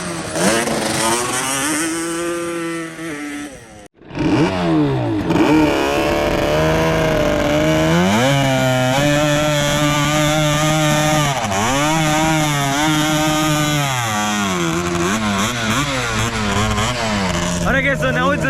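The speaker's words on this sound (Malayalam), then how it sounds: "ഇത് നമ്മുടെ Rx100 സെയിം എഞ്ചിനാണ്." A desert quad bike fitted with the same engine as a Yamaha RX100 revs repeatedly at close range with a loud, buzzing two-stroke snarl. The engine briefly cuts out and then rises and falls through long, continuous throttle sweeps.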